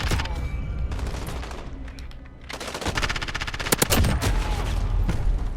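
Rapid bursts of MP7 submachine gun fire in the video game Modern Warfare, during close-quarters fighting against bots: dense, repeated automatic volleys with short pauses, loud and close, with sharp individual shots standing out near the end.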